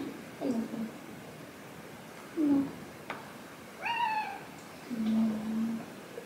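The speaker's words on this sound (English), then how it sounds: "Hi, Chelsea Cat." A cat meows several times indoors, short separate calls spread across a few seconds, fairly close, with quiet talk in the room.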